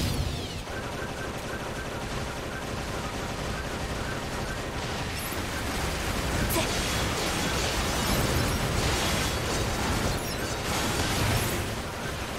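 Explosions and gunfire in NieR: Automata, a dense, continuous roar of blasts and crackling bursts that stays loud and unbroken throughout.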